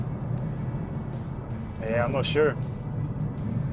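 Inside a car on a rough road surface, the tyres produce a steady, heavy low rumble and roar, with a person briefly speaking over it.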